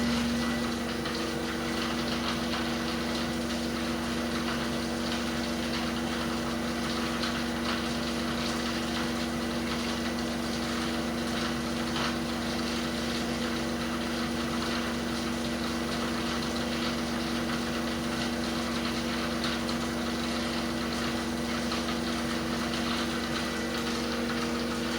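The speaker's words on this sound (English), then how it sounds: "So this machine will now spin for about 4 minutes at 1400." A Miele WED025 washing machine on a 1400 rpm spin, a constant loud whirring drone with a steady tonal hum and no pauses.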